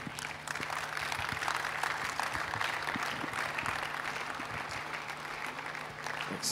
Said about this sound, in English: Somebody keep clapping